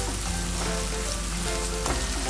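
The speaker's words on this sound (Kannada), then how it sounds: "ಈಗ ನಾನು ಟೊಮೆಟೊ ಹಾಕ್ತಾ ಇದ್ದೀನಿ, ಅದಕ್ಕೆ ಒಂದು ಸಣ್ಣ ಟೊಮೆಟೊ ಸಹ ಕಟ್ ಮಾಡಿ ಇದನ್ನು ಸ್ವಲ್ಪ ಫ್ರೈ ಮಾಡಬೇಕು." Chopped tomato frying in a hot pan gives a loud, close, continuous sizzle that stays steady throughout with no voices.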